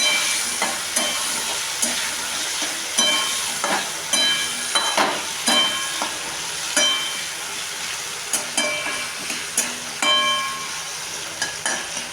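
Potato pieces fry in hot oil spiced with cinnamon and cardamom, a steady close sizzle broken by repeated scraping stirs and clinks of a spatula throughout.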